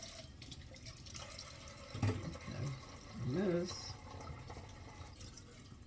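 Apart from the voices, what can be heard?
rinsing cans under running tap water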